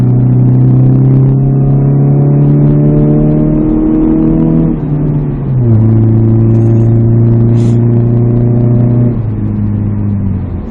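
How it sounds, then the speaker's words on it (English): A naturally aspirated Chrysler PT Cruiser with a straight-piped exhaust revs loudly and close, its deep droning note climbing and settling through several steady holds and drops, with no talking. "I'm really enjoying this exhaust being opened up on this car."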